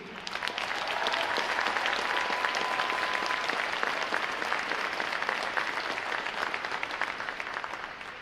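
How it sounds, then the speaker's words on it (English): A large audience at a Navy boot camp graduation applauds the training staff, a long, broad wave of clapping that swells in quickly, holds steady and tapers slightly at the end. "Please, let's give a round of applause to the staff here at RTC."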